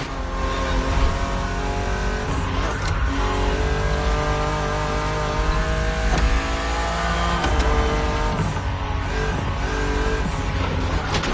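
A BMW Z roadster races against an aggressive opponent in a racing video game, its engine droning steadily and revving loudly throughout, layered over continuous game music with no talk.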